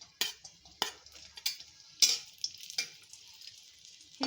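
Raisins sizzling briefly in hot ghee for vermicelli kheer, with soft crackling and several sharp stirring clicks of a spoon against the pan, close and quiet.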